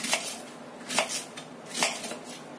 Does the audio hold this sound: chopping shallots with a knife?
yes